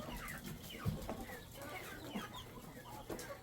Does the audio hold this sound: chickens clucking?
yes